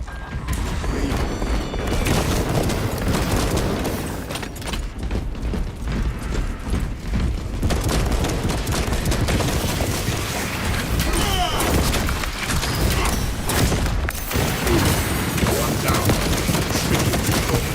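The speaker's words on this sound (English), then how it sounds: "Head up to the cannons and remind the Xenos of whom they dare to attack." Fortress cannons fire at Xenos in the video game Warhammer 40000 Space Marine 2, a dense, loud barrage of booming blasts and mechanical clatter running throughout, with battle noise layered beneath it.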